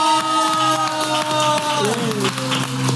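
An audience at the SHOWKESMAS talk show claps and cheers for guest Guru Gembul, a steady wash of applause and crowd noise sitting over sustained tonal music throughout.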